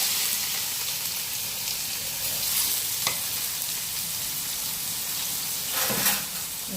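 Chopped onion drops into hot oil with cumin in a pan and sets off a steady, even sizzle and hiss. A few soft stirring knocks come through near the end.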